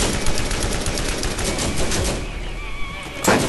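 Rapid automatic gunfire rattles loudly in Borderlands, a fast stream of close shots that thins out near the end, with a final sharp burst.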